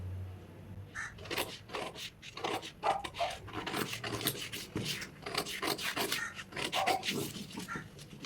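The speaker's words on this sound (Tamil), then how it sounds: "இப்போ நம்ம கட் பண்ணிடலாம்." Scissors cut through blouse fabric in a quick series of crisp snips and rasping slices, closely spaced and fairly faint, with occasional soft rustling between cuts.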